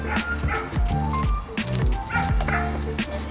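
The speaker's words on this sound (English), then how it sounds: "Here's the dogs barking." Dogs bark and yip repeatedly at close range, several rapid overlapping barks with some whimpering mixed in, loud and continuous.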